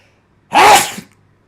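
A single loud, close sneeze bursts out in under a second, with a sharp onset and quick fade into silence.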